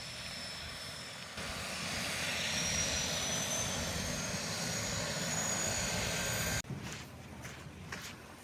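An old Alaska bush plane engine, a propeller aircraft on a trip to remote Dry Tortugas, roars loudly and steadily for several seconds, then cuts sharply to a lower, rougher idle.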